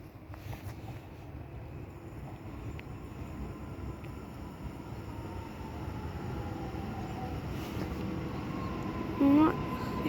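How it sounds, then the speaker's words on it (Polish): A passenger train rolls steadily through Zawiercie station in Poland, a continuous low rumble of wheels on rail building slightly toward the end, with a brief squeal near the close and faint voices in the background. "Jedzie chemik."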